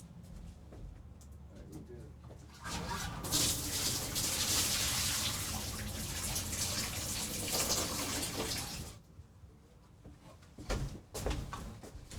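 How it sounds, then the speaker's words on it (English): Water being dumped out of a small 2-gallon nano reef aquarium, a loud broadband splashing pour lasting several seconds, with quieter handling and a voice before and after. "Alright, so I'm gonna dump this water out and save the sand."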